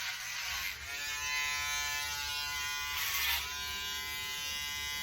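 Electric hair clippers buzz steadily and close up while trimming excess hair along the line of the ear, a continuous motor drone with brief dips in tone as the blade moves through hair.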